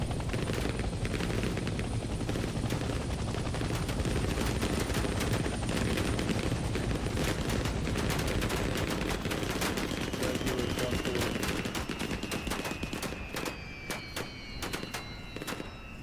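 Helicopter rotor thrums steadily in the Vietnam-era video game Hell Let Loose Vietnam, close and loud, with rapid bursts of gunfire crackling over it throughout.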